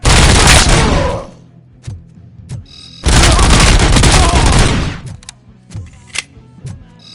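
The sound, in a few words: gunfire in Robocop Rogue City video game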